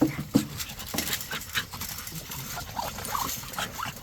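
American bully and pit bull terrier pups pant in quick, soft, breathy bursts close by, with a few faint whimpers mixed in and light rustling around them.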